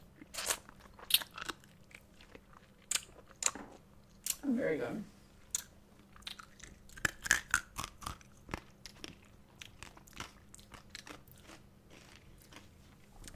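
Someone crunching a grape flavored Blow Pop lollipop outdoors at a picnic, with a run of sharp, close candy crunches and bites spread through the clip and a brief spoken remark.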